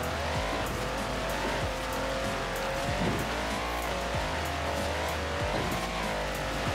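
A Mercedes G63 in the racing game Forza Horizon 4 drives with a steady engine hum, rising revs and repeated tire squeals and skids on turns, loud and continuous with no voices.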